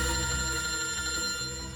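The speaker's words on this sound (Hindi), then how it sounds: "फ्रेडी का फोन?" A telephone ringing in an office, a sustained electronic ring filling the short moment at steady loudness with no talking.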